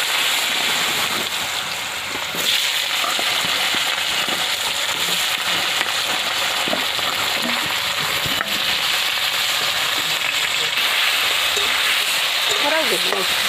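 Potatoes hitting hot oil with dry chilli and bay leaf in a village kitchen, a steady dense sizzle and crackle that holds on throughout with occasional stirring clicks.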